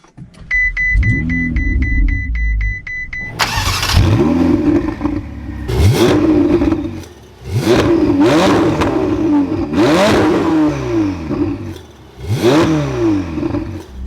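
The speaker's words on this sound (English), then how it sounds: "with my foot on the brake, we have the red engine start stop button. We'll bring this to life." A Ferrari 488 Spider starts with a whirring starter and a short electronic chime, then its engine fires, and a series of sharp revs rises and falls, each throttle blip loud and close, with short idle gaps between the bursts.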